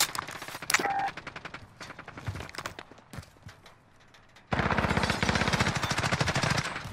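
Rapid automatic gunfire from the video game Warzone: sporadic bursts and single shots early on, then a loud, sustained volley of rapid shots in the second half.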